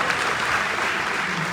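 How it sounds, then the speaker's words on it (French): An audience breaks into a brief burst of dense, steady clapping for a dignitary, loud and close with no pauses. "Applaudissez son excellence,"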